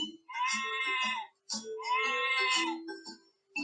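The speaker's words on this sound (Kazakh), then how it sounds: "Қой маңырайды." A sheep bleats several times in a row, loud, close and wavering, with short pauses between calls and no talk over them.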